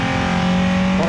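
Nissan 350Z with a VQ35DE engine revving hard while shifting during a track battle, a loud, close, sustained engine note that changes pitch near the end as a shift comes through.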